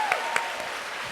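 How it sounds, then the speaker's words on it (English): Brief burst of audience applause at a new student orientation welcome, a short wash of clapping with a faint whistle-like tone near the start. "Let's give another hand of applause for Julia and Shayla"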